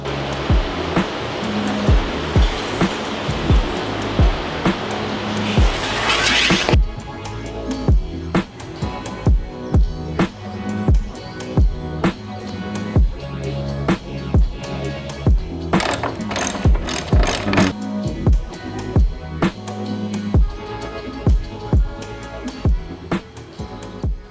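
A power saw cutting plywood for a life-size Patty Wagon build: a loud, harsh buzzing rasp for several seconds, then a stretch of rapid, rhythmic mechanical clatter and rattling, close and loud throughout, with no speech.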